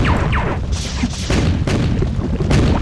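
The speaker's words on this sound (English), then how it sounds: "the bobs are exploding all over the place over there" Enemies explode in the video game Marathon 2 Durandal, a string of heavy, booming blasts in quick succession, loud and close over rumbling background noise.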